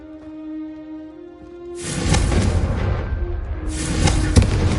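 In Hogwarts Legacy, a Confringo fire spell bursts with loud, close, crackling roars, two blasts in quick succession after a quiet tonal game ambience.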